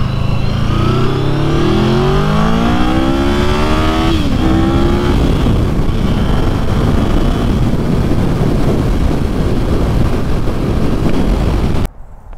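A 2020 Yamaha VMAX 1700 motorcycle roars loudly at wide-open throttle in fifth gear from 70 mph, pitch climbing steadily as it accelerates, then blending into heavy rushing wind noise.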